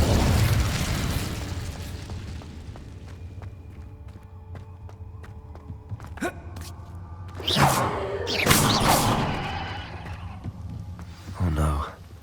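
An Incendio fire spell is cast in the video game Hogwarts Legacy, giving a sharp whooshing burst followed by several crackling fiery pops and booms over a low ambient game soundtrack.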